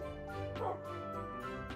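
A Minecraft dog gives a few short, quiet yips and barks over a soft, sustained tonal background.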